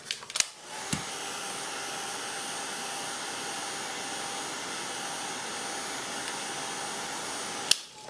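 A heat tool blows steadily to dry ink shading on a stamped paper tag, a continuous loud whooshing hum that starts after a couple of clicks and cuts off with a click near the end.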